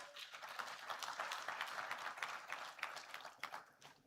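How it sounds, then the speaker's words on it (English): At an investment conference, the audience gives a panel a fairly soft round of applause, with individual claps standing out through the steady patter of a moderate crowd. "Let's give that panel another wonderful round of applause."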